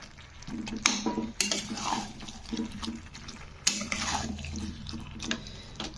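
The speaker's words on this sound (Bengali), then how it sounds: "তো এবারে কিন্তু আমি আলু আর এঁচোড়টা দিয়ে দিলাম কষার জন্য" Potato and jackfruit pieces are sautéed in a pot, with clanking metal, scraping utensil strokes and a soft background hiss in irregular bursts, close by.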